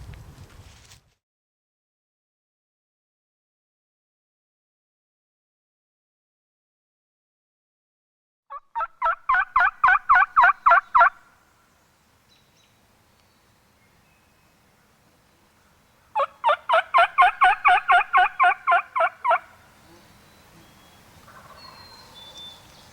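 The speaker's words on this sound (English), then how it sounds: "That bird's coming." A wild turkey gobbles twice during a bowhunt outdoors, each burst a loud rattling call lasting a few seconds, separated by quiet, and it comes from a moderate distance.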